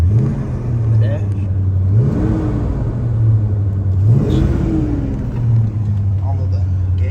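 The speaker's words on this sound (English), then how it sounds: "We're going to take this 1968 Pontiac GTO for a test drive and see how it does." A 1968 Pontiac GTO Ram Air V8 on a test drive revs up and eases off in repeated waves, a steady loud rumble rising and falling under light conversation inside the car.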